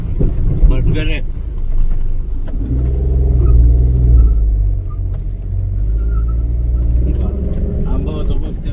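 A car engine rumbles and strains as it climbs a steep coastal road near a beach, with its low drone rising and falling. Wind buffets the microphone, and occupants talk intermittently over the noise.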